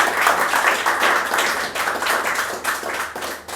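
Audience clapping for a singer at a live Hindi song performance, a dense loud round of applause with rhythmic pulses running throughout.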